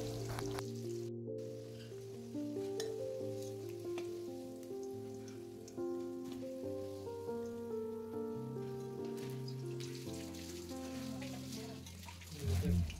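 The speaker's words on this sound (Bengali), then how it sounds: "কড়াইয়ের মধ্যে দিলাম তেল, সরষের তেল। তেলটা গরম হয়েছে, এখন বাজুম আলুডি।" Potatoes hit hot mustard oil in a wok and fry with a steady, crackly sizzle that runs the whole time beneath a tonal musical backing.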